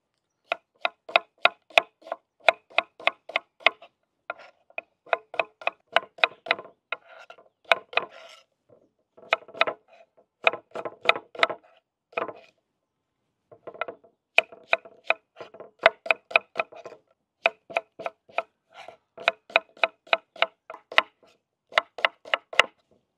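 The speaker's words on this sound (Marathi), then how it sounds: "आपण आता कांदे कट करून घेऊ।" Onions are chopped with a knife on a board for a Maharashtrian pea and potato curry, with fast rhythmic bursts of sharp close knife taps separated by brief pauses. No talking is heard.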